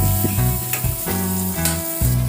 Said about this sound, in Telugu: ఈ విధంగా లో టు మీడియం ఫ్లేమ్లో ఒక 10 మినిట్స్ ఫ్రై చేసుకోండి